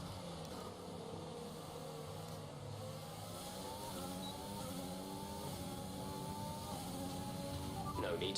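Formula 1 racing car engine in F1 2020, a steady high-pitched whine with rising and falling pitch sweeps as gears change, continuous and fairly loud, with a brief burst near the end.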